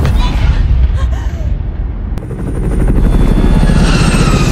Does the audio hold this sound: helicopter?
yes